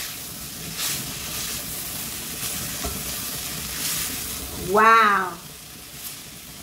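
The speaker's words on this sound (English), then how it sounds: "So I just want the cabbage stir fry." A cabbage stir fry sizzles steadily in a pan, a soft constant hiss under one brief excited exclamation from a voice.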